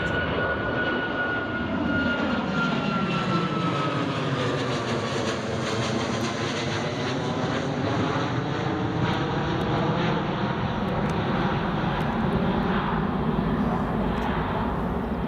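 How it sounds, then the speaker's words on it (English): An ATR turboprop airliner takes off, its engines roaring loud and steady throughout with rising and falling propeller tones sweeping across the sound, heard from nearby with no talk. "Love the ATR, Callum."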